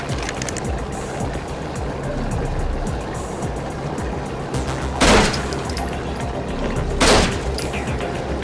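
Gunfire in a shootout: two sharp, loud shots spaced about two seconds apart cut through a steady rumbling background, with no talk.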